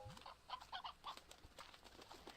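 Chickens in a video game clucking and squawking in short, bright bursts, several calls close together over a busy game background, with no talk.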